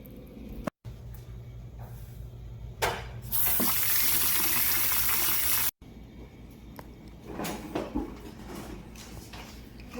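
Milk pours into a meatloaf mixture of egg and sausage as a continuous, fairly loud liquid gush lasting a couple of seconds. Quieter mixing and handling noises come before and after it.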